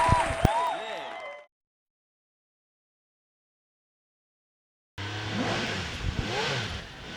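A hillclimb race car at a speed hillclimb event revs near the start line, with engine notes rising and falling. The sound then cuts to silence for several seconds before more loud engine noise and crowd sounds return.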